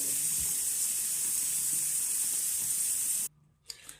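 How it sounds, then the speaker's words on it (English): Running water pours steadily from a tap while synthetic hair is rinsed, a loud, even, hissing spray that cuts off abruptly near the end, leaving a few faint knocks and rustles. "So I'm just going to rinse it off."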